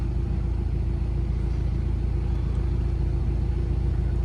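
Low rumbling exhaust from a BMW 330i fitted with a stage 2 downpipe, a steady pulsing drone from inside the car while driving, without distinct pops standing out.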